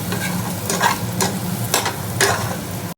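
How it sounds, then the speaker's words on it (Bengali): Spices fry in a hot pan with a steady sizzle, and a spoon stirs and scrapes through them in several distinct passes, close and fairly loud, with no talking. "এদিকে মশলাটা ভাজা হয়ে গেছে।"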